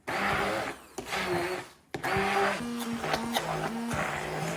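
A blender whirs in loud bursts, blending cottage cheese into a smooth mass, its motor pitch rising and dipping as it churns, with a brief pause between runs.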